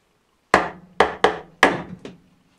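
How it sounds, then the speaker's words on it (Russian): A hammer strikes a wooden spacer set on a shaft, driving the shaft out with five sharp, separate knocks, the last one lighter; each blow rings briefly and then fades, with no talking. "Положим ее на вал и с помощью молотка будем небольшими ударами выбивать."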